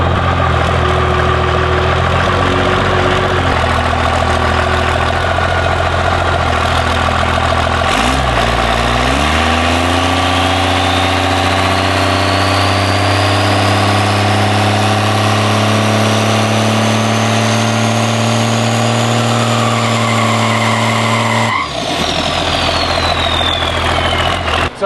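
A car engine runs steadily through a turbo spool-up check after upgraded fuel lines, with a low steady drone and a rising whine. The sound builds, then drops off sharply near the end and resumes.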